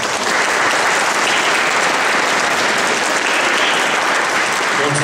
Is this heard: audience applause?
yes